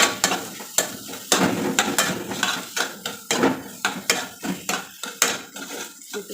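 Spiced potato masala is stirred and fried in a pan, with rhythmic scraping and clanking of a spatula against the metal over a low sizzle, repeating about twice a second, close and fairly loud.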